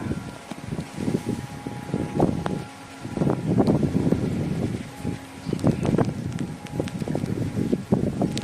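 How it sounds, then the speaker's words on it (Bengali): Strong wind roars and buffets on a rooftop in uneven, gusty waves, a continuous loud rumble with brief lulls. "দেখো দেখো, দেখছো কি হাওয়া"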